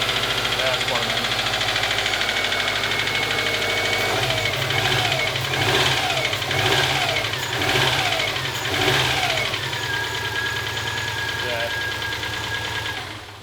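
Engine of a car with a spun bearing idles and is revved, a close, rough mechanical rumble with rhythmic clacking knocks that rise and fall in several rev pulses, with voices talking over it.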